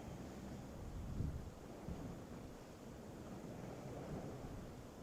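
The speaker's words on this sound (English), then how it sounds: "You can hear the wind and the waves of Thailand" Soft wind rushes over a steady wash of ocean surf on the coast of Thailand, faint and distant, with gentle swells in the roar and no voices.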